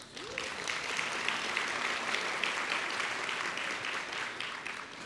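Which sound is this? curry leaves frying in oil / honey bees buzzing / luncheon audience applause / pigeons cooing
luncheon audience applause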